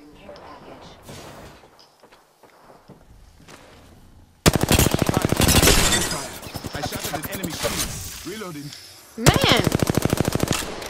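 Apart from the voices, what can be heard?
gunfire in the video game Apex Legends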